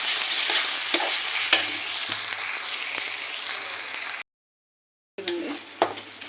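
Ginger garlic paste frying with onions in a pan, giving a close, continuous sizzle with spoon stirring scrapes, briefly cut to silence before the sizzling resumes.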